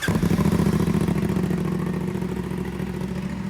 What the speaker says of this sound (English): Emery, we're gonna try the new exhaust.